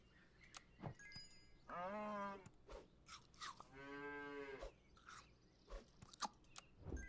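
A cow in the Super Auto Pets video game gives two long, loud moos a couple of seconds apart, with faint chewing-like clicks and taps scattered between them.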